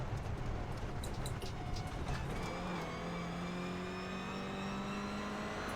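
A Toyota GR86 race car with a 2.4-litre boxer engine in iRacing drones steadily at a distance, its engine note shifting and rising in pitch amid broad road and wind noise.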